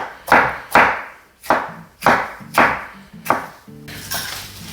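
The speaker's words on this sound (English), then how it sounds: "And then you just dice your tomatoes." A knife dicing tomatoes on a cutting board for a Napoli sauce, six crisp, evenly spaced chops close by that each thud onto the board, followed by a softer scraping stroke.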